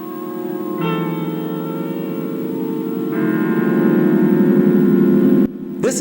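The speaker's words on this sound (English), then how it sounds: "This is the sound of 3 musicians from the Oakland Symphony noodling around with their instruments." Three Oakland Symphony musicians loosely noodle on their instruments, sustained tonal notes layering and swelling together at a steady, fairly loud level, ending with an abrupt cut.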